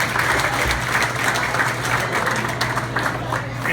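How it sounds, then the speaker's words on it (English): Sustained applause from an audience at an event in Houston, steady and dense clapping throughout, with a low hum running underneath and no speech over it. "Let's give them a round of applause."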